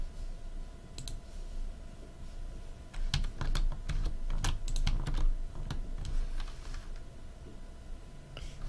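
Code being typed on a computer keyboard for a Game Maker game, bursts of rapid key clicks with short pauses between, close and clear over a low room hum, no speech.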